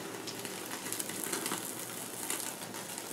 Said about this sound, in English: You're getting a wonderful sear.